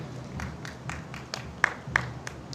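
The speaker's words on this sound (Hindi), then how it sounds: "कोई दिक्कत नहीं है ताली बजाने में" An audience claps at a church message, a loose run of sharp hand claps, a few louder than the rest, over a faint background murmur.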